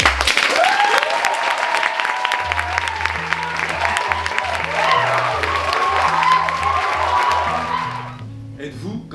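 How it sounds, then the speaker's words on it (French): Thunderous audience applause at a school eloquence contest final fills the hall, a dense steady clatter of clapping with a little laughter, while low musical tones play underneath before the clapping cuts off near the end. "Je vous demande un tonnerre d'applaudissements pour tous les applaudissements"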